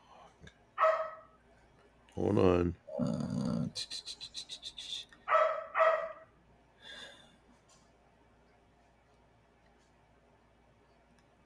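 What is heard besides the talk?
dog barking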